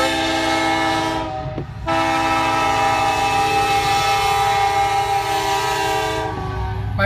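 A Canadian National freight train rolls through Iowa Falls, its horn blaring in steady sustained chords over the rumble of passing railcars, loud and close for the whole stretch.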